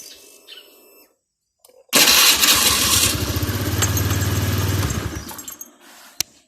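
A Honda Click 110i scooter with a hard-starting problem is cranked after a few quiet clicks, then catches and idles loudly up close with a steady throbbing engine note before cutting out, followed by a sharp click.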